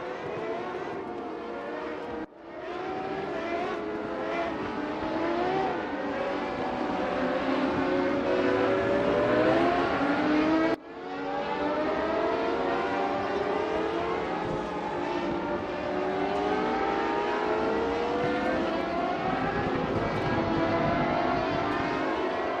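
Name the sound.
race car engines revving in sim racing video game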